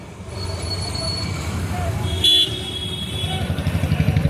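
At a bullock cart race in Kalanivasal, Karaikudi, a motorcycle engine idles and revs close by with a throbbing pulse. It sits among surrounding traffic, with a brief horn-like tone and people talking over it.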